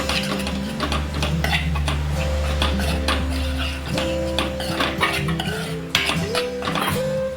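Garam masala and coriander powder stirred in a pot, a spoon tapping and scraping against the metal in quick irregular clicks, close by, over a steady low hum.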